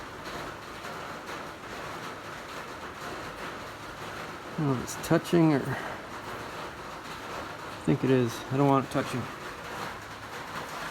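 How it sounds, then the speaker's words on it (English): Rain drumming on an uninsulated tin roof, a steady broadband hiss running throughout beneath a man's brief speech. "sorry about the noise. It's raining. Got tin roof over there with no insulation or anything, so it's kind of loud."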